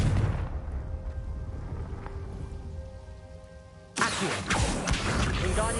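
Confringo blasting spell in Hogwarts Legacy: a sudden heavy explosive burst lands partway through, cutting into a low rumbling game ambience and leaving a dense crackling, hissing tail.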